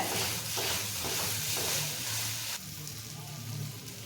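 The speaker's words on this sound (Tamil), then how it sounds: "இந்த மாவை இது மாதிரி எண்ணெயிலே இதுமாரி அழுத்தி அழுத்தி கலந்து விட்டுக்கலாங்க" Idli batter pressed and stirred into hot oil with mustard seeds, giving a steady close sizzle and fry with soft repeated stirring pushes throughout, loud at first and settling slightly quieter partway through.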